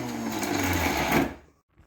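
Medium mixer grinder jar pulsing to crush tender young jackfruit, a short loud motor whir lasting just over a second before cutting off, then a faint clunk.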